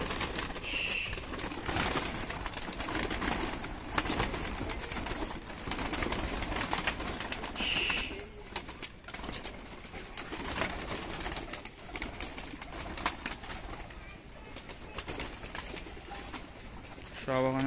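Pigeons coo softly inside a home loft, with low murmuring calls and the odd rustle of wings under a constant background hiss, while a person talks over them.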